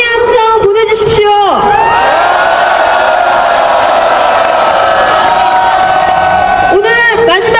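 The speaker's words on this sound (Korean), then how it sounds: "여러분 모두에게 서로 힘내자고 응원의 함성 보내주십시오." A crowd of about five thousand citizens at a candlelight rally for a general strike in Seoul Plaza lets out a sustained, loud roar of cheers, whoops and shouts that rises, holds steady and surges again at the end.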